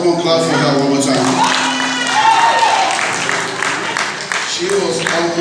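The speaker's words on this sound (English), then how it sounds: "Oh, come on, clap for her one more time." An audience at a citywide church Bible recitation competition claps and cheers, dense applause mixed with voices and a sustained tone running underneath, loud throughout.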